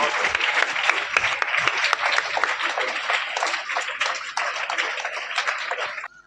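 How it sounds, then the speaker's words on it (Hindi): A seminar audience of students and teachers at a school claps together, a dense, loud, sustained burst of applause that runs for several seconds and then stops abruptly. "जोरदार तालियों से हम सबका अभिवादन करें"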